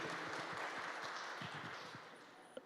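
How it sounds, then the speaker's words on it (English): Steady applause from a crowd fills the space, a dense even patter of many hands clapping that slowly tapers off. "let's give a round of applause for him"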